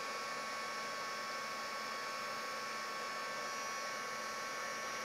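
A heat tool used for heat embossing a card blows a constant, faint whooshing hum from start to finish, with no voices.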